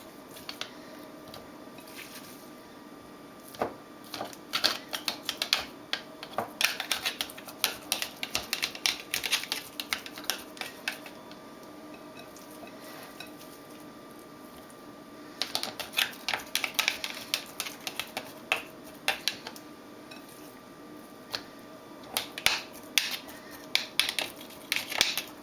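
Cubes of beef are packed down into a jar with a small plastic utensil for pressure canning, making clustered clicking taps and soft squishes in repeated bursts with quieter pauses between them.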